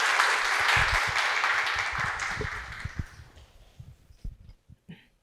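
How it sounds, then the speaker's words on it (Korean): Applause from an audience at an education forum in Seongnam, welcoming a researcher from the Gyeonggi Institute of Education to the lectern, loud and steady at first, then thinning into a few scattered claps before falling quiet. "여러분 힘찬 박수로 환영해 주시기 바랍니다"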